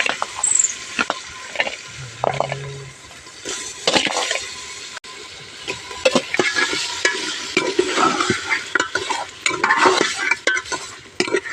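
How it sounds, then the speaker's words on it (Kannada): Washed mutton fries and is stirred in a pan, with loud irregular scraping and clattering strokes over a crackling sizzle, close up and with no talk. "ಇವಾಗ ಈ ಫ್ರೈ ಒಳಗೆ ಹಾಕ್ತಾ ಇದ್ದೀನಿ."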